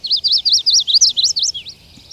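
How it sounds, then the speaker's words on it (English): A chestnut-sided warbler sings a quick run of high, bright repeated notes, ending in a short downward slur, clear and close with no other sounds. "one of the more common birds we're hearing here is a chestnut-sided warbler"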